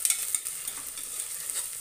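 Ginger garlic paste sizzles in a pan for a chana pulao, a steady bright frying hiss with soft bursts of stirring, close up and alone.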